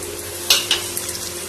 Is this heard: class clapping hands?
no